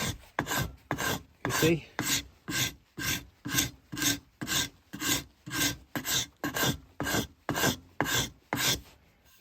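A sharpened hand scraper is drawn across a wooden workpiece on a vintage crate racer build, making about eighteen rhythmic, rasping strokes close to the microphone. A voice briefly says a few words between strokes.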